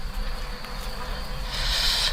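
A steady, dense hum of honeybees buzzing inside a bee package, continuous and close, swelling slightly toward the end with no talking.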